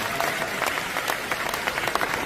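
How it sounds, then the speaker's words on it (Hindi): An audience at an RCM event applauds in a steady burst of many hands clapping at once, fairly loud and close, with no voice over it. "अब ताली तो बहुत अच्छी है आपकी"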